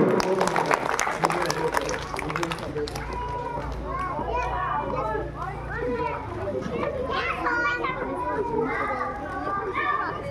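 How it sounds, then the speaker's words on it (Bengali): Children at a school Republic Day event applaud and cheer together, a dense, lively burst of clapping mixed with young voices that carries on at steady loudness throughout. "জোরদার একটা হাততালি।"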